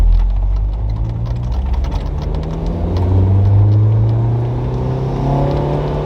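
A Toyota MR2 Spyder with a swapped 2ZZ engine accelerates steadily, its engine note climbing in pitch through a long, loud pull alongside constant road and cabin rumble.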